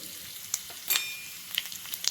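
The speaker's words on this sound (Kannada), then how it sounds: "ಎಣ್ಣೆ ಕಾದ್ಮೇಲೆ ಅದಕ್ಕೆ ಸಾಸಿವೆ ಜೀರಿಗೆ ಒಗ್ಗರಣೆ" Mustard seeds and cumin sizzling in hot oil for a tempering, a steady soft crackle broken by a few sharp pops close up, with no talking.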